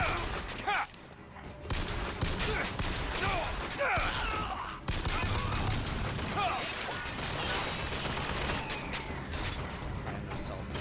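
Dense video game gunfire, a sustained fusillade of rapid shots and mechanical clatter running continuously, with a person talking over it.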